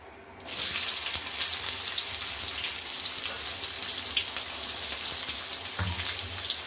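Onions frying in hot oil with mustard seeds start a loud, steady sizzle that kicks in abruptly and crackles on without pause.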